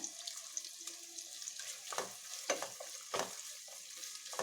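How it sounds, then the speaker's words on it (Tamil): Onions fry in a pan for vegetable biryani, a soft steady sizzle broken by occasional stirring scrapes and clinks, fairly quiet overall. "இந்த ஸ்டேஜில் இந்த வெங்காயத்தை நல்ல ப்ரௌனிஷாக வறுத்துடலாம்."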